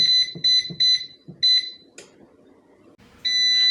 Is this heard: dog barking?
no